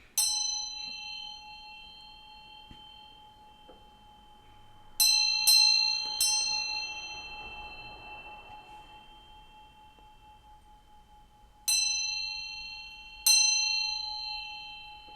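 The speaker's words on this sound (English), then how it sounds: "I'm going to ring this bell, bringing some good vibes" A small metal bell is struck several times at irregular intervals, each bright ding ringing out and decaying slowly, close and alone without talk.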